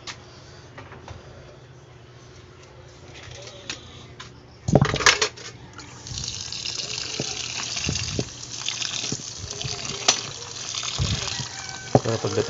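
Water gushes steadily from a tap, a continuous broadband rush with a few clanks of pots nearby and occasional voices in the background.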